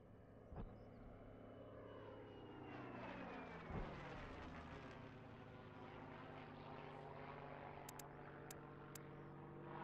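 Another propeller plane's engine drones nearby in the IL-2 flight simulator video game, a steady loud hum with a slowly shifting pitch and a couple of brief clicks over nearly ten seconds.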